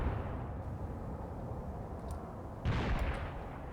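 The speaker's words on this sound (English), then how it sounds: "the mortar strike should end now. These should be the last rounds landing." Mortar rounds land in the war game Graviteam Tactics as a dense low rumble of distant explosions, with a heavier burst near the end.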